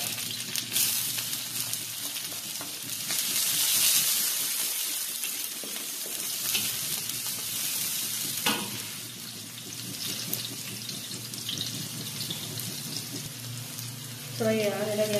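Onion and garlic sauté in a pan for chicken tinola, giving a steady, fairly loud frying sizzle with a hissing, watery texture throughout and a brief clatter near the end.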